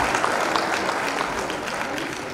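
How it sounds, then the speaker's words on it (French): A school audience claps loudly for the schools at a French-language prize ceremony, a dense, even round of applause close by that runs throughout with no voices over it. "Allez, on les applaudit encore bien fort"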